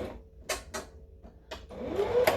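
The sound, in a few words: sewing machine stitching dice bag fabric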